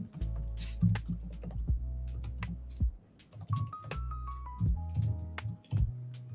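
Keystrokes on a computer keyboard while filling in an online grant application form, irregular clicks and short bursts of typing running steadily close by, with no voice.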